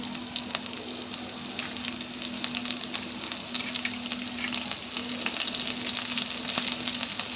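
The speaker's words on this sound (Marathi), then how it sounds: "आता यावर आपल्याला बारीक कट केलेली मिरची घालून घ्यायची आहे" Finely chopped green chilies and mustard seeds sizzle and spatter steadily in hot oil, close and continuous, with occasional crackles and a faint hum underneath.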